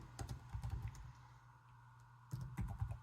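Quick bursts of typing on a computer keyboard, close and quiet, with clusters of key clicks separated by a short pause.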